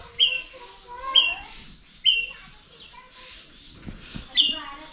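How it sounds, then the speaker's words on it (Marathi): Sharp, high squirrel chirps repeat at roughly one-second intervals, like alarm calls, with quieter rustling and faint sounds between. "खारुताईचा आवाज आहे"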